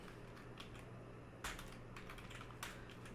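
Soft, rapid clicks of typing on a computer keyboard while writing HTML for a web page, coming in short bursts with brief pauses and a few sharper key strikes over a low steady hum, with no voices.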